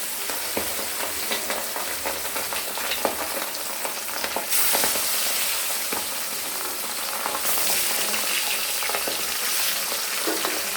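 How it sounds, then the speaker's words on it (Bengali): Pabda fish fry in hot oil, a continuous dense sizzle and crackle with brief surges of spitting, close and loud with no voices. "তেল গরম হয়ে গেছে, এবার আমরা মাছগুলো ছেড়ে দেবো।"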